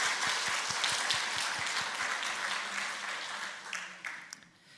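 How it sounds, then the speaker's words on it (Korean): A church congregation applauds to celebrate and encourage the children of the education department, a broad wash of clapping that holds steady and then thins out toward the end. "우리 교육부서 아이들을 위해서 큰 박수로 또 축하하고"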